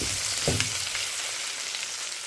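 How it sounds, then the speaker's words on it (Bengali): Chicken sizzles steadily with fried onions in a hot pan while a utensil stirs and scrapes through it, with a clatter near the start. "এখন আমি চিকেনগুলোকে ভালো করে এই পেঁয়াজগুলোর সাথে, ভাজা পেঁয়াজগুলোর সাথে মিক্স করে নিচ্ছি"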